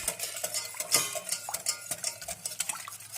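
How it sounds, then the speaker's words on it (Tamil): A whisk stirs health mix powder into boiled milk in a pot, giving a steady run of close scraping and clinking strokes against the metal with no talk over it. "இதை போட்டுட்டு நான் ஒரு விஸ்க் வச்சு அதை வந்து மிக்ஸ் பண்ணிக்கிறேன்"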